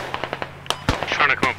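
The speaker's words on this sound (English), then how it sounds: "Gunfire across the road, southwest." Rapid popping shots and crackling bursts from the video game Squad, mixed with a voice talking over them.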